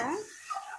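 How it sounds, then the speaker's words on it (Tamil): A pot of fish tamarind gravy is being stirred, with a short scraping, clinking burst of a utensil against the pot that fades into quieter clatter. "எல்லாத்தையும் ஒன்று போல் கிளறி விட்டுருங்க."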